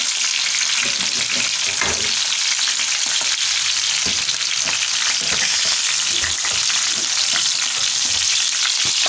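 Chicken pieces frying in hot oil, browned golden for a sauce graine dish: a steady, dense sizzle with crackling pops running throughout, close and loud, with no talk.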